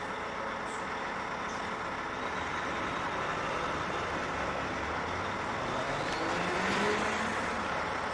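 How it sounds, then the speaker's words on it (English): A road vehicle roars steadily at close range, its engine noise broad and continuous, swelling slightly near the end as if pulling away. "You heard a car speed off and then sirens."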